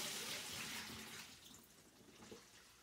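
Water trickles and splashes steadily as a washing machine tub drains into a Pyrex dish, a faint, continuous pour with no voices.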